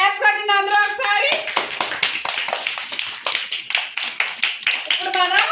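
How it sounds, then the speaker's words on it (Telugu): A group of children clap their hands together in a classroom during a Telugu workbook lesson, a quick burst of close applause lasting a few seconds, with voices before and after it. "క్లాప్స్ కొట్టండి అందరూ ఒకసారి."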